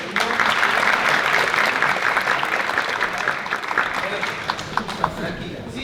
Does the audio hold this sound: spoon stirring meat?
no